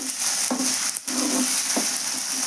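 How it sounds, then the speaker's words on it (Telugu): Curry leaves fry in hot oil in a pan for stuffed brinjal curry, a steady close sizzle with a few soft stirring scrapes and no talk. "ఇది బాగా పచ్చివాసన పోయేంత వరకు అయితే ఫ్రై చేద్దామండి బాగా."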